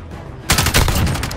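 Gunfire in Call of Duty Modern Warfare, a sudden loud burst of rapid automatic shots that starts abruptly and rattles on for about a second.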